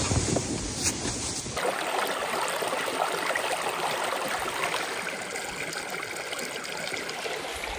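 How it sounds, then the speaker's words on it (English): Steady rushing water fills the scene, a continuous broadband flow of a woodland creek running over stones, close and even throughout. "Another nice woodland creek."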